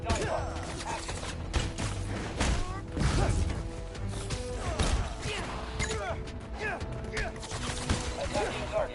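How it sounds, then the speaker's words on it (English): Simulated gunfire and melee impacts in a combat simulation in the Spider-Man Miles Morales video game, a dense run of bangs, crashes and mechanical clatter mixed with game voice and effects. "Simulated gunfire active."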